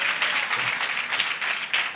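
A congregation claps loudly at an all-night prayer meeting in Chandarlapadu, a dense, steady wash of many hands that swells in brief surges across the whole stretch, with no talk over it.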